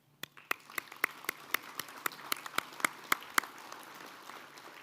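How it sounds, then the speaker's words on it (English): Slow, sparse clapping at a Métis Nation legislative assembly, a handful of distinct hand claps in a steady, evenly spaced rhythm over a quiet hall, with faint murmuring beneath. "let's give my wife a hand."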